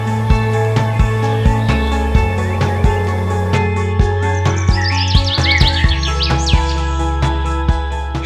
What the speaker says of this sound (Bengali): শহরের কোলাহলের মাঝেও পাখিদের কিচিরমিচির শব্দ অনেকের মনে প্রশান্তি এনে দেয়